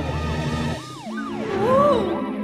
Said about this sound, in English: Here comes the ambulance bus.